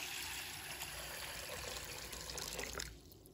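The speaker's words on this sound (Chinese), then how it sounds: "倒入清水" Clean water is poured over mung beans being washed, giving a steady, fairly faint rushing splash that continues before tapering off near the end, with no voices.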